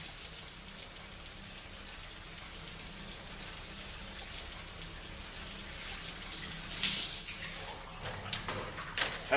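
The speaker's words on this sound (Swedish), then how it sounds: "Stäng av duschen." A shower runs in a bathroom in a late-1990s Swedish crime drama, the water hissing steadily and close, with a few clatters and knocks toward the end.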